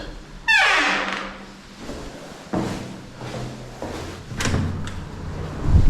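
A door swings with a creaking squeal and then closes with a heavy thud, followed by a few further knocks and bumps nearby.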